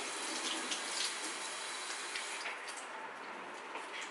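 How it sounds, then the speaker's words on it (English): A mash tool being rinsed under a running tap, a steady, even rush of water splashing over it, quiet and unbroken. "I'm just going to give it a rinse so I don't get any in the wine"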